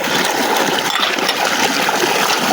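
Water flowing into a field while it is being filled, a loud, steady rushing gush close by with no break.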